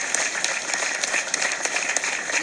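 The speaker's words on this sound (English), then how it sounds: "Give the DRPT a round of applause." Crowd applause at an Amtrak inaugural train ceremony in Roanoke, Virginia, a dense, steady patter of many hands clapping at moderate distance.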